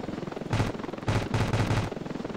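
Bursts of heavy gunfire from an attack helicopter in the Ravenfield video game, three loud rapid-fire volleys over a steady low rotor drone, no talking.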